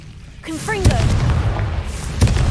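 Confringo fire blasts from Hogwarts Legacy boom in sharp, close bursts, two distinct impacts a little over a second apart, mixed with whooshing effects and a brief voice-like sound.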